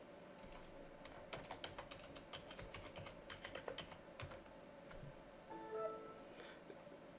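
A password being typed on a computer keyboard while logging in to a domain, quiet close key taps arriving in irregular bursts.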